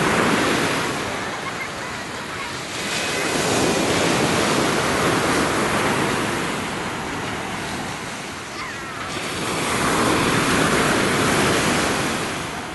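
Waves wash onto the hotel beach at Alanya, Turkey, on an overcast November day, rising and falling in long surges of broad, loud surf with wind rumbling over the microphone and no talk.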